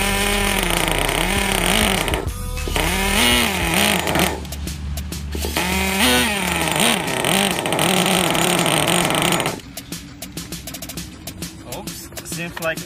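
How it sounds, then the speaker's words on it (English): A Traxxas T-Maxx 2.5 nitro RC engine being started, loud buzzing, revving bursts that cut out and restart, then a rougher, choppier stretch of sputtering attempts. "Oops, seems like engine don't want to start."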